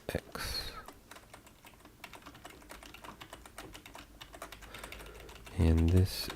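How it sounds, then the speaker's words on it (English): Steady, rapid clatter of typing on a computer keyboard during a live game-development session, close and continuous with irregular bursts of keystrokes, while a voice talks over it. "Gonna have to type it out."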